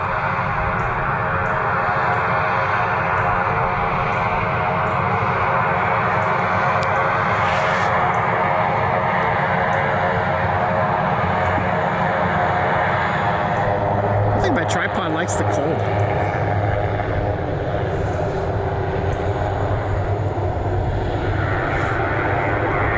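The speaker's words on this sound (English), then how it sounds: "These things sound so weird when they're taking off." A steady, droning King Air turboprop engine roars continuously at a distance during takeoff in cold weather while someone speaks briefly over it.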